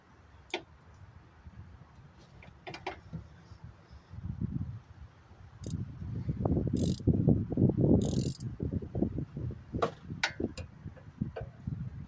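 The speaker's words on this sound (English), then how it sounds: "I'm going to take my 17mm ratchet wrench right here, and I'm going to do the same thing on the bottom." A 17mm ratchet wrench works on a Toyota Corolla front strut bolt, giving rapid clicking pawl ratchets in close, moderately loud bursts along with a few sharp metallic clanks, with no talk.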